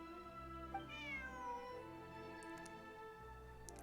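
A cat in a video game gives a single clear, plaintive meow over a steady humming background of game music and ambience.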